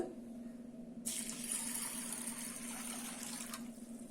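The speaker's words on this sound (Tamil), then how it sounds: "போட்டுட்டு தண்ணி விட்டு" Water runs steadily into a bowl of chana dal in a kitchen, starting abruptly after a second as a soft, continuous splashing stream that stays even and fairly quiet, then eases near the end.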